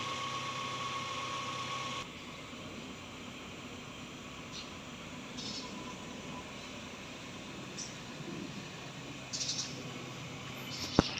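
A 2000 Toyota Tamaraw FX engine idles steadily at normal operating temperature with a low, even hum and hiss, interrupted by a few faint clicks and light knocks.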